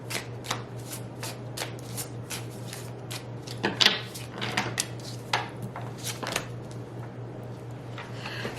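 An oracle card deck is shuffled by hand close up, giving a run of quick riffling flutters and soft card slaps in an uneven rhythm over a low steady hum.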